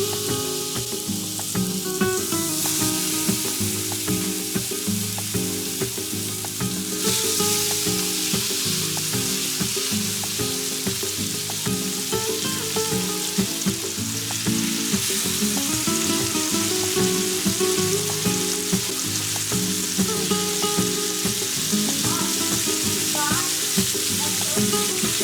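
Trout fillets searing in oil on a hot comal, a close continuous crackling sizzle that holds steady throughout with no voices.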